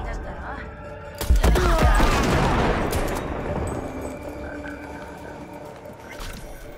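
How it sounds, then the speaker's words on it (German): A sharp gunshot cracks out in the video game Cyberpunk 2077, followed by a long rolling echo and ambient game noise, with faint croaking textures in the background. "Ein Schuss, ein gezielter Treffer und das war's."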